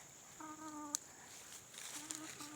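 Backyard chickens making soft individual clucks and short calls, a couple of faint harmonic vocalizations with a sharp click between them, heard quietly close by with no talk.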